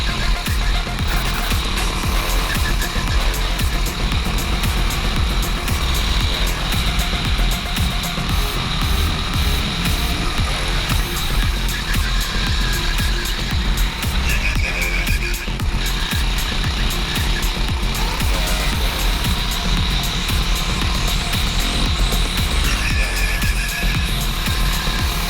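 A go-kart lapping a track flat out without braking, its small engine droning loud and unbroken throughout, with steady buzzing power and no let-up.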